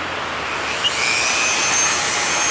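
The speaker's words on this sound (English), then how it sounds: "I'm going to grab this small sanding roll." A worn small sanding roll on a rotary tool whines at high pitch, running steadily and close for the whole stretch while working the sides of a Marlin 60 rifle part.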